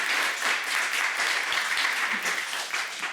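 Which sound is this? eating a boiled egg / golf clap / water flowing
golf clap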